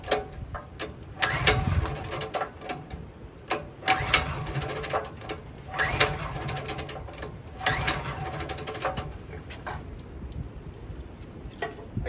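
A small engine is cranked with its pull cord several times in a row, each pull giving a brief, rough, sputtering turnover that dies back down between attempts.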